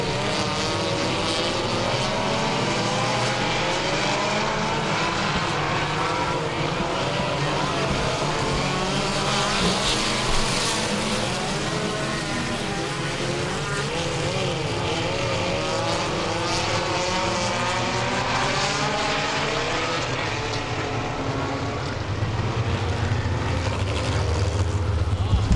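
Race cars circling a short oval track in New England roar past in a continuous loud engine drone with rising and falling revs, heard at a distance throughout.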